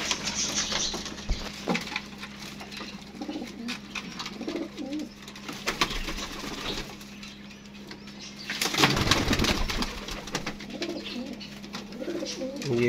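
Pigeons coo repeatedly nearby, with soft wing flutters and pattering, plus a louder burst of flapping midway.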